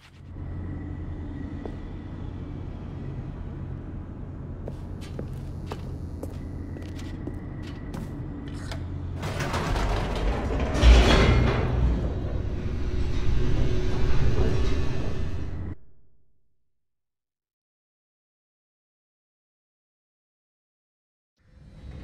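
An elevator descends in The Stanley Parable Ultra Deluxe with a steady mechanical rumble and hum that swells into a louder rushing roar, then cuts off into silence.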